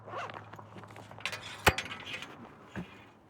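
A zipper opens a compartment on an FSTOP camera backpack, a quick rasping zip run followed by a sharp clink and a soft thud, close and fairly quiet with light handling rustle.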